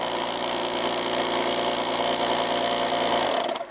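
A Pittsburgh 12V air compressor in a plastic housing runs with a steady, loud mechanical drone and motor whine, constant throughout before shutting off abruptly at the end, with no talking.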